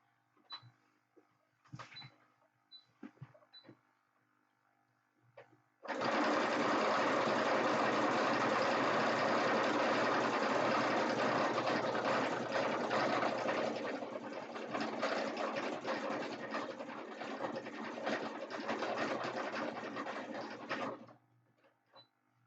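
A sewing machine stitching runs in a steady, loud mechanical whir for about fifteen seconds after a few faint clicks, then cuts off abruptly, with no talking.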